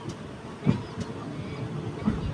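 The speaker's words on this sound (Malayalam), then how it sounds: "അങ്ങനെ ഈ ഒരു സ്റ്റേഷനിൽ നിന്ന് ട്രെയിൻ എടുത്തു" Passenger train on the Tirunelveli to Kanniyakumari line pulling away from a station, a low rumbling roll with a couple of soft clunks, moderately quiet and steady throughout.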